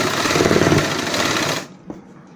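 Sewing machine running steadily while stitching the side seam of a churidar pajami, a dense, loud mechanical whirr for about a second and a half before stopping abruptly, followed by a faint click.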